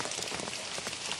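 Steady rain falling outdoors during a camping trip, a dense close hiss of drops pattering on surfaces with no voices.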